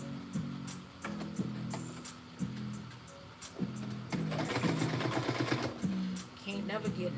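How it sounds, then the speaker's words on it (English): Sewing machine runs in short bursts of rhythmic stitching, stopping and starting repeatedly, close and moderately quiet, with a person talking over it. "I'm supposed to be sewing."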